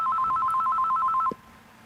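A telephone rings once: a rapid, bright electronic trill pulses steadily for just over a second, then cuts off abruptly, leaving a quiet room.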